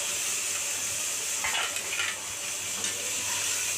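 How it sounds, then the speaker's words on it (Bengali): Chopped tomatoes hit a pan of already fried onions and sizzle with a steady, bright hiss. A few soft scraping and stirring touches sound close by, and no one speaks. "এবার টমাটারগুলো দিয়ে দেবো"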